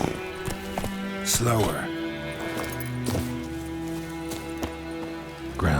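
Horse hooves clip-clop at a steady trot or gallop in The Witcher 3, a rhythmic thudding beat running through the clip beneath a man's speech and game music.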